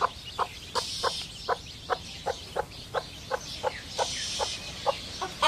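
Chickens clucking in a steady run of short, evenly spaced clucks close by, over a faint hiss of background noise.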